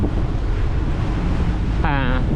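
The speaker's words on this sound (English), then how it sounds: "Actually, the wind is blowing towards us," Wind blowing at sea on the windward side of a landmass during a day of rain squalls, a steady loud roar of wind buffeting the microphone throughout, with a brief voice near the end.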